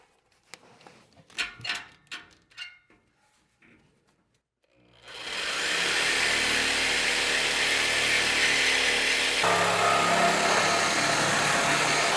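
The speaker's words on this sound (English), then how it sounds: "Let's get the Sawzall out and chop off those other mufflers that I got on here." A Sawzall reciprocating saw cuts off the mufflers under a Chevrolet Silverado truck, running loud and continuous after several seconds of clanking and handling noises, with no talking.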